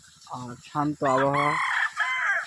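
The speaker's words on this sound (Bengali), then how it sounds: "মাঝে মাঝে মোরগের ডাক শোনা যাচ্ছে" A rooster crows loudly and close by in a quiet rural guava orchard, its drawn-out call rising and breaking over about two seconds, with a person speaking briefly just before it.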